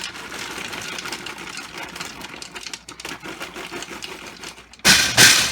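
A food processor's motor whirs and rattles as it chops Cheetos into crumbs for coating cheese sticks, a close, fluttering grind that briefly dips, then jumps to a louder, harsher burst at the end.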